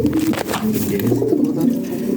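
Lahori pigeons give low, rolling coos close by, one call running into the next over a steady background, with no speech.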